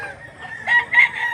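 A green-legged rooster for sale at a rooster market in Mantalungon, Cebu, gives a short, close crow in two quick rising pulses.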